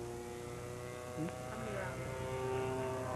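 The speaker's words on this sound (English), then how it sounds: "We are flying planes. Only model planes, though, not the real thing." Model airplanes fly over an evening club field, their small engines giving a steady, high, buzzing whine with several sustained tones that swell slightly toward the end, continuous throughout.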